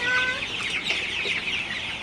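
Sonali super hybrid chickens, about 43 days old, cluck on a farm in one steady close burst, with no talk over it.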